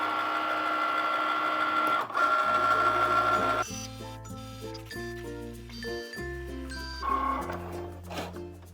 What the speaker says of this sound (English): Push the flashing Cricut button.